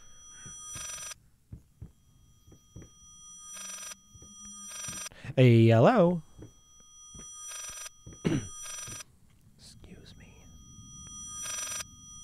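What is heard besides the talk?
strange phone ringing in video game Layers of Fear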